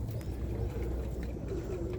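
Birmingham Roller pigeons cooing softly at a loft, low throaty murmurs running steadily and fairly faint, with no voices over them.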